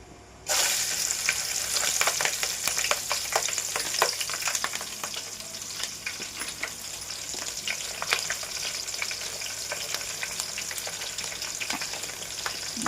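Cumin, fenugreek and green chilies frying in hot oil for fish curry, a loud continuous sizzle with crackling pops close up, heard alone without talk.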